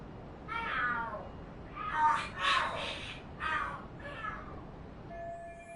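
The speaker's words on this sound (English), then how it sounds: "The hell are there cats fighting? What are they screaming for?" Cats in Lost Judgment yowl and scream at each other in several drawn-out, wavering cries, loud and close, coming in bursts separated by short pauses over a quiet background.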